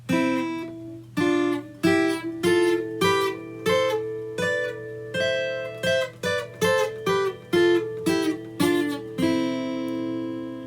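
Clean guitar plays a scale in harmonized thirds, paired notes stepping up and down, each two-note chord plucked evenly, with a final one left ringing.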